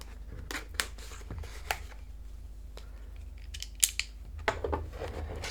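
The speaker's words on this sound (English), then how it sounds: "I will need to cut out those stickers." Scissors snip through stickers sealing a brand-new Xiaomi Redmi A5 phone box, a few sharp close cuts and soft handling noises in a quiet room.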